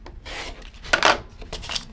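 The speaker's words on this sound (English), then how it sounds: "I'm going to put it right on that dotted line and trim it" Paper-pieced quilt fabric trimmed along a dotted line, a couple of short rasping cuts with a louder scrape in the middle, close and brief.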